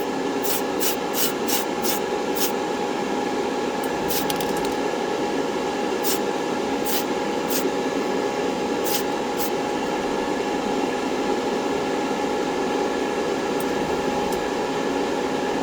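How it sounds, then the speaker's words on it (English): Clear coat sprayed onto the trunk lid of an AMT 1968 Corvair model car: a steady, loud airbrush hiss with a constant hum beneath it, running unbroken throughout, with occasional faint ticks and no talk. "we're back again to lay down another coat of clear on the trunk lid"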